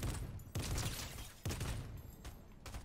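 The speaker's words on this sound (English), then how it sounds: "I'm still gonna shoot at them" Repeated bursts of gunfire in the Fortnite video game, loud, dense volleys separated by short gaps, with no voices over them.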